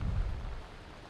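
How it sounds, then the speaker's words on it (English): Heavy rain from the remnants of Hurricane Florence pours down steadily in Greensboro, North Carolina, a dense, even wash with a deep rumbling low end that eases slightly over a brief moment. "Let's take a look at the rain as you see here, as it's just been continuing to fall"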